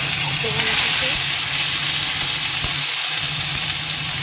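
Ginger paste hitting hot oil in a pan, giving a loud, continuous hissing sizzle that holds steady close by, with a low hum underneath and no speech.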